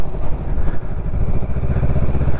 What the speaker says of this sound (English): it's up to me how much I want to let the clutch out, how much I want to pull the accelerator, pull the throttle. Yeah, and away we go.